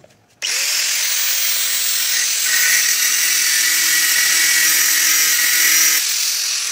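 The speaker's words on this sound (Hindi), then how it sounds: "लेकिन ग्राइंडर से आप कट लगाओगे तो ये इस टाइप्स के कटिंग होती है।" An angle grinder cuts grade 5 titanium, starting abruptly into a loud, steady, high-pitched grinding screech that holds for several seconds, then stops sharply, close up.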